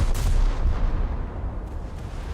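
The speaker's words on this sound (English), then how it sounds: "I think if this salvo doesn't finish it off, I should be shooting the front" A warship's main gun salvo from a naval video game fires with a heavy, booming low rumble that rolls on and decays over a couple of seconds, with a faint second thump near the end.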